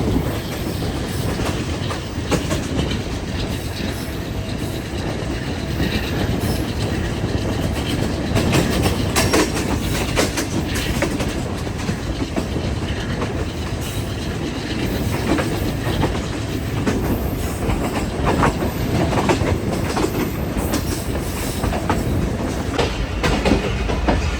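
Passenger train rolls along the rails approaching Hyderabad Junction at night on the Karachi to Nawabshah line, a loud continuous rumble with rhythmic clickety-clack of wheels over joints heard from on board.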